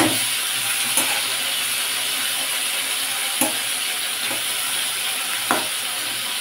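Mung dal being dry-fried in a pan for a vegetarian pointed gourd dish, a continuous hissing sizzle with a few sharp scrapes of stirring spaced several seconds apart, close and without voices.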